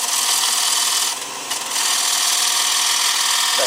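Steel calipers ride against a dry, rough-turned wooden bowl blank spinning on a lathe, a steady loud hissing rasp that drops briefly for a moment before resuming, close up with no talk.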